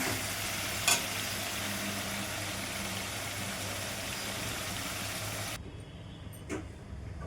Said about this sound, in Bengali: কড়াইতে তেল দিয়ে পনিরটা ভাজা করতে বসিয়ে দিয়েছি হলুদ লবণ দিয়ে।